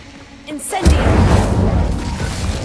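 A fire spell cast in Hogwarts Legacy bursts into a loud, close boom after a brief lead-in, followed by a sustained roaring rumble that slowly fades over a couple of seconds.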